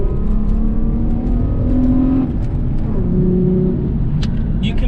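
A Hyundai with a V6 engine revs up close and loud, with rising and falling engine pitch through several throttle blips and a short voice near the end.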